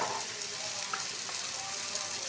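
Spices for a tempering fry in oil in a pan, making a soft, even, continuous sizzle heard close up with no voices.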